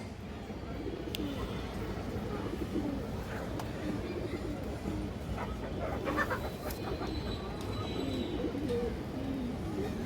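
A silver female pigeon coos amid a loft of other pigeons, a faint steady murmur of low calls with occasional sharper chirps and clicks, while someone talks nearby.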